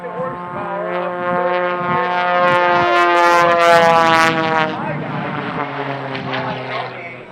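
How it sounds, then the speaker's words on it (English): The Shockwave jet truck's three Pratt & Whitney J34 jet engines, taken from Navy T-2 Buckeye aircraft, give a loud, continuous, whining roar with tones that rise and swell, then ease off near the end. "Shockwave has 3 jet engines, 3 Pratt & Whitney J34 jet engines."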